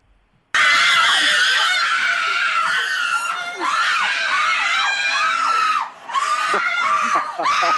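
A family screams loudly and continuously in their living room over a baseball win, heard as a recording played back through a phone, with excited shrieks and laughter after a brief silent start.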